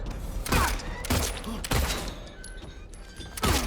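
Gunshots in the Silent Hill 2 Remake: five loud, close shots spaced about a second apart, each followed by a short ringing decay, with faint mechanical creaks between them.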